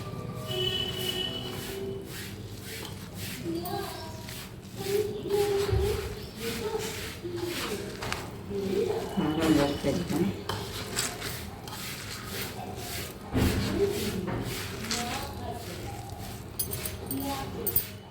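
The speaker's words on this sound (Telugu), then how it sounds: "మనం హ్యాండ్ పెట్టుకొని కలిపేసుకుందాం మొత్తం తడి లేకుండా" Mango pickle mixed by hand in a bowl: soft, continuous rubbing and squishing with occasional heavier slaps, fairly close, running under a speaking voice.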